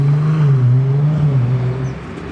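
Ferrari cars driving past in the streets of Monaco, a steady loud engine note with a rising and falling pitch as a car goes by close, heard alone.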